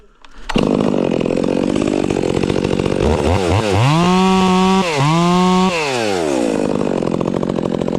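Stihl 026 chainsaw with an 8-tooth sprocket cutting trees, starting with a loud snap into a high revving whine, then bogging and surging in pitch as it bites through wood, near and loud throughout.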